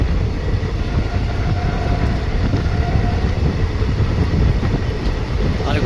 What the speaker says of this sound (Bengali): আমাদের ট্রেন কিন্তু এখন ক্রস করছে গড়িবাস স্টেশন।